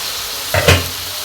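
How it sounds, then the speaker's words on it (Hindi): Pumpkin drops into frying masala in a pan, the steady sizzle flaring into a louder burst of hissing and spattering for a moment before settling back to a constant fry. "लो फ्राई हो चुका है तो पम्पकिन डाल दिया।"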